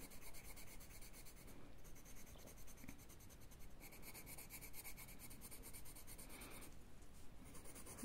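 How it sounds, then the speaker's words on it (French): Coloured pens or markers scratch and rub steadily across the paper of a bullet journal page, a close, continuous drawing texture with no voices. "C'est sympa aussi de me voir colorier, non?"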